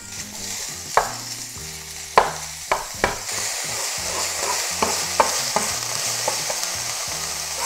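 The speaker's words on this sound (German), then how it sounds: "Ich benutze heute für meine Yakimeshi Rindhackfleisch. Deswegen brate ich als erstes." Beef mince fries in hot oil in a pan for yakimeshi, a continuous close sizzle broken by repeated sharp scrapes and knocks of stirring.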